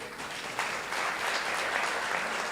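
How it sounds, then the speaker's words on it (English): Audience applause fills a women-in-healthcare dinner hall, a steady dense clapping that swells slightly after the first half second and holds evenly without voices on top. "A round of applause."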